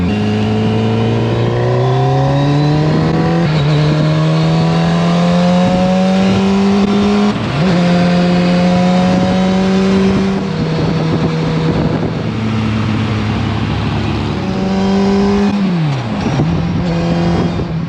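A T-Rex three-wheeler cruises along a highway parkway, its engine droning steadily and loudly throughout and rising and falling in pitch through gear changes, with strong wind rush over the microphone and no talk.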